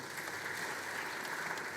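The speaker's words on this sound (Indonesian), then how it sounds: "Mari kita berikan sambutan tepuk tangan." Applause at a wedding ceremony, heard as a steady, soft wash of many hands clapping together at a distance, with no talk over it.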